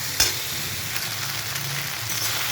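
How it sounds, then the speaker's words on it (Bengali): Maggi noodles being stirred in a frying pan, a continuous close sizzle with a soft scrape of the spatula, no voices. "ম্যাগিটা দিয়ে এক্ষুনি নেড়ে নামিয়ে নেব"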